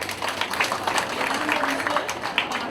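Audience applause at an International Women's Day 2018 ceremony, a sustained patter of many hands clapping at moderate volume, with some voices mixed in.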